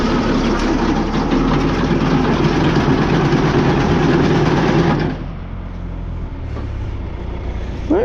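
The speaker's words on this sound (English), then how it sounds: "hold it and rev it up as you do it" A tractor engine is held and revved while running an auger, giving a loud, close, steady engine roar that drops to a lower idle about two thirds of the way through.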